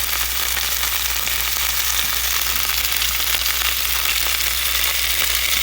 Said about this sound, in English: to the butter, I am going to add some onions, garlic, and parsley to my mussels